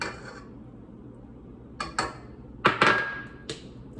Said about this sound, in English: I'm gonna put in 2 eggs.